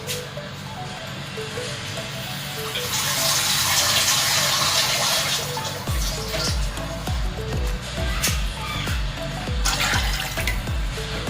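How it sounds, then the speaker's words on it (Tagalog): Water pours steadily into a pot for bulalo beef bone soup, loud and close. The splashing gurgle grows fuller and deeper as the pot fills. "Tapos dagdagyan natin yung tubig."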